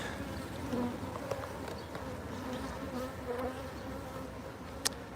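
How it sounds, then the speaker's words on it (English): Honey bees buzz continuously around a flow hive, a dense, soft humming drone with individual insects passing close by, and a faint click near the end. "Sometimes it's nice just to hear the bees buzzing around and everything."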